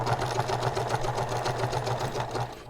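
A sewing machine runs steadily while stitching a handbag seam with lengthened stitches, its motor humming loudly and evenly with a fast repeating needle rhythm throughout, and no talking.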